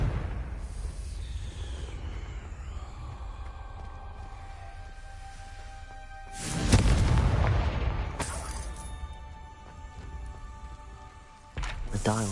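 A Confringo spell explosion in Hogwarts Legacy lands with a deep, swelling boom midway that rumbles and slowly fades, preceded by quieter magical whooshes and tonal effects, with a sharp burst near the end.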